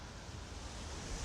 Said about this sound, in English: Again, it's very windy,